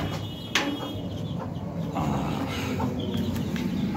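Chickens cluck in a poultry coop at close range, with scattered short calls over a steady background hum.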